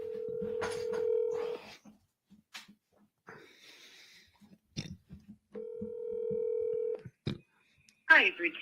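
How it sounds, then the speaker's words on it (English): Telephone keypad tones sound as a number is dialed on a phone during calling, two long steady beeps separated by quiet gaps, with short bursts of talk and faint clicks between them. "Let's just keep dialing."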